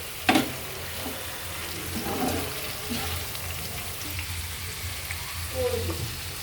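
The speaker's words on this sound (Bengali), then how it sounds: "একটু নাড়ি নাড়াচাড়া করে দেবেন" Food fries in oil with fish in a pan while it is being stirred: a steady, faint background sizzle with a sharp clink near the start and occasional soft scrapes, with no one talking.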